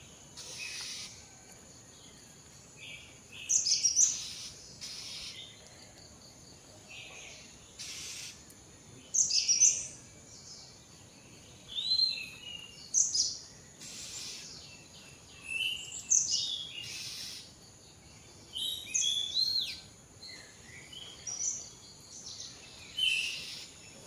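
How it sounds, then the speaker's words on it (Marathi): Morning birdsong in quiet open air in the Konkan region of India: bright, repeated chirping phrases every few seconds over a faint insect hum, no voices. "तिथल्या पक्ष्यांचा आवाज बघा"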